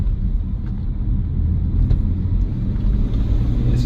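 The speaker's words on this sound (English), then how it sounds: "Oh, you're in the downshifts." A BMW M3 E46 with the SMG gearbox downshifts, its engine a loud, steady low rumble heard from inside the car through an open window, with no talking.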